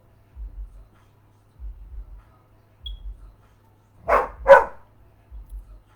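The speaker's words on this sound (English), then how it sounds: "That's why she's barking like that." A dog gives two sharp, close barks in quick succession, with soft low thumps recurring rhythmically around them in an otherwise quiet space.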